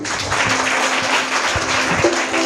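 A church congregation claps loudly together during a hallelujah worship song, a dense, continuous wash of hand claps from many people that fills the short moment.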